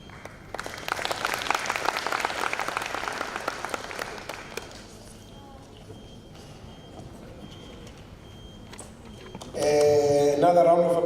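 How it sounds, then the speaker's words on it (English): A workshop audience applauds after a presentation on youth-focused supply chain management, a few seconds of moderate clapping that fades out, followed by quiet room tone and then a loud burst of tonal beeping near the end. "Another round of applause."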